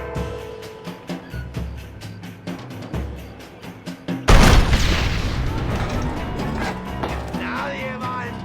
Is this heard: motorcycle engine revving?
no